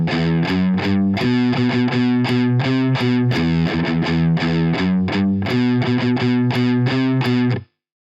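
Distorted electric guitar picking the first bar of a harmonic minor jig, a brisk lilting run of clear single notes, loud and alone before stopping abruptly.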